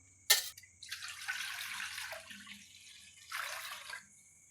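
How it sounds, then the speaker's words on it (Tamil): Rice-washing water poured into a pan while cooking kurinjan keerai, a soft splashing pour with drips, one short burst then a longer stream and a second pour, fairly close and quiet, with no talk. "அரிசி களைஞ்ச தண்ணி எடுத்துருக்கோம்."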